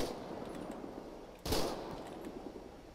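Gunfire from GTA 5, rapid and faint, sounds in the distance as a muffled rattle, with one sharper, louder burst near the middle.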